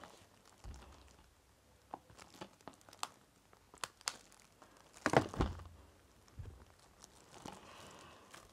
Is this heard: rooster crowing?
no